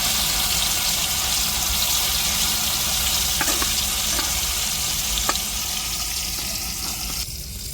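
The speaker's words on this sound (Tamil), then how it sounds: "நம்ம ஒவ்வொரு துண்டாக எண்ணெயில் தூக்கி போட்டு பொறிச்சு எடுத்துட்டு" Fish pieces fry in hot oil, producing a loud continuous hissing sizzle with a few sharp crackles near the middle, no talking.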